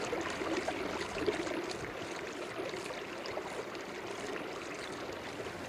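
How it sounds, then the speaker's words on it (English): Irrigation water flows steadily through siphon gates into farm fields, a soft, continuous rushing and trickling heard from nearby with no voices. "I help out when I can to draw the water through the siphon gates and start it into the fields"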